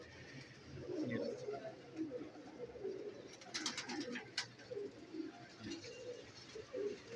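Pigeons coo softly among the birds at a pigeon shop on Jama Masjid Road in Rawalpindi, low murmuring calls repeating throughout, faint and mixed with a voice and a brief rustle midway.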